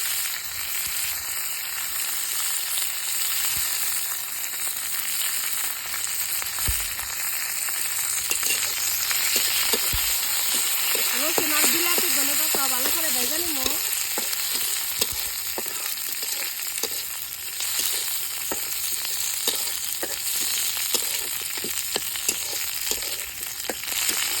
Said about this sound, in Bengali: আর বিলাতি ধনে পাতা ভেজে নিলাম